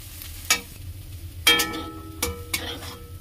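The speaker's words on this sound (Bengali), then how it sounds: "পোল ছাতুটা একদম সম্পূর্ণভাবেই ভাজা হয়ে গেছে" Pol chatu mushrooms fry in a pan, with a soft sizzle broken by a few sharp stirring clanks and scrapes spaced about a second apart.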